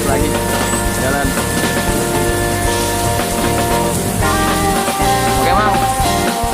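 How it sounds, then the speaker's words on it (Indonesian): Heavy rain pounds a tent during a windy storm on a mountain, a loud, dense, continuous patter with gusty rumble underneath, heard up close from inside the shelter. "Mudah-mudahan hujannya cepat reda lah, supaya lanjut lagi jalan."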